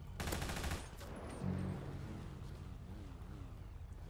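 Rapid gunfire in the Grand Theft Auto V roleplay video game, dense bursts of automatic shots crackling loudly at the start, then continuing as a steady rattling fusillade in the background.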